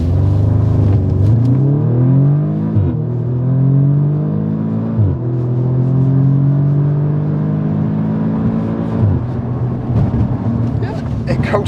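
An Audi S3 Sportback pulls away from a standing start, its engine note rising loudly through several gears with distinct dips at each shift, heard close up from inside the car.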